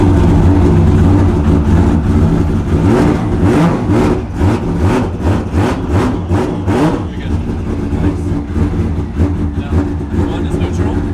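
A 1000-horsepower pro drift car's engine started in gear with the clutch held, then revved in a steady, loud, low rumble with rhythmic pulses midway, and people talking over it.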